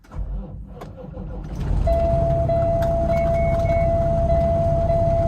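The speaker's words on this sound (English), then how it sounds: "I'm going to start the truck up." A truck engine cranks and catches inside the cab, rising from a brief low starter churn into a steady idle rumble joined by a constant electronic warning tone.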